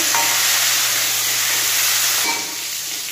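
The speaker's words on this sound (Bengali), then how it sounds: "এবারে আমি ফুলকপিগুলো দিয়ে দিলাম। ফুলকপিটা একটু ভেজে নেব।" Cauliflower frying in a pan of hot oil with cumin seeds, giving a steady, close, loud hiss and sizzle that eases slightly near the end.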